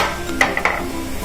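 Curry leaves sizzle in hot oil for a tempering while preparing moong dal handvo, a loud close crackling hiss with a few sharp spatters and a stirring clink.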